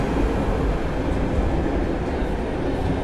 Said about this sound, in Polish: wjeżdża na tor 6 przy peronie 4